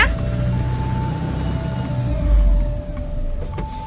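An Eicher truck's engine drones steadily up close as the vehicle rolls forward, a continuous low rumble with a faint whine, dipping briefly toward the end.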